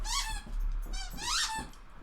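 A dog squeezes a squeaky toy indoors, giving two loud, drawn-out rubbery squeaks about a second apart, close by with a steady low hum underneath.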